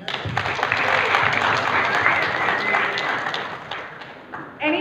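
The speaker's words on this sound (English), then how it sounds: "Can we have applause, please?" A crowd at a short film premiere applauds with dense clapping that tapers off, with a voice speaking at the very end.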